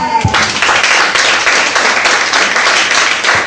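A church congregation breaks into loud, sustained applause and clapping that fills the room from start to finish.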